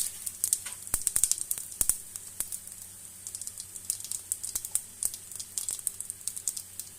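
Cumin seeds crackle in hot mustard oil, a steady high sizzle broken by sharp pops and spits close by, with no voices.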